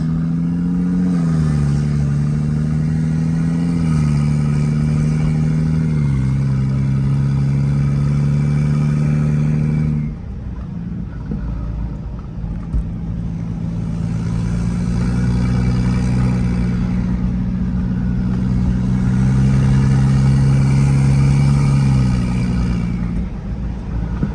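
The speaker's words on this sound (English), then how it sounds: "I could already hear that turbo spool" Turbocharged BMW 535i engine running loud and close, a steady droning hum that rises and falls in pitch with revs, dropping briefly midway before building again, no talk.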